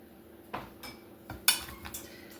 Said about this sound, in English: You're just going to mix that all together.